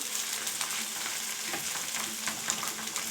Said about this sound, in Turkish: Bunu böyle kıtır kıtır kızartacağım